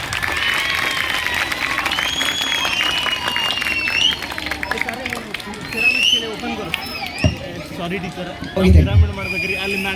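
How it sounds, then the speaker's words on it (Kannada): A crowd at a school event claps and cheers after a short skit, steady applause running through the whole stretch with some voices over it and a louder burst near the end. "ಇನ್ನೊಂದ್ಸಲ ಜೋರಾಗಿ ಚಪ್ಪಾಳೆ ಬರಲಿ."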